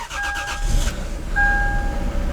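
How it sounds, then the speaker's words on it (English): A Toyota car with a 2JZ engine, stuck in limp mode and unused for months, cranks with a quick rhythmic whirring, fires, then settles into a close, steady idle with a faint electronic chime. "the car does start up just fine with no problems whatsoever"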